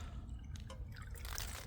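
Water runs into a mug in a quiet, steady trickle that grows slightly brighter as it fills, with no talk.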